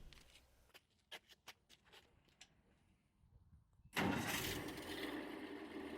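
Early model Asplundh mobile wood chipper engine starting from cold with choke: a few clanking clicks and cranking ticks, then the engine catches abruptly and settles into a loud, steady rumbling idle nearby.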